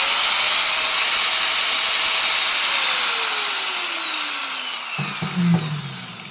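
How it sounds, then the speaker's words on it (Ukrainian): A GTM AG 125/850 angle grinder, 850 W, runs loud and steady with a high whining tone that slowly winds down, followed by a few short clunks of handling near the end. "А тепер слухаємо, як працює GTM на 850 Вт."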